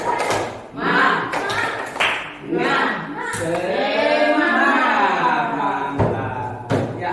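Students in a classroom perform a tepuk semangat, a rhythmic group clapping chant: a few sharp clap bursts in a pattern alternate with loud children's voices chanting together, close and lively.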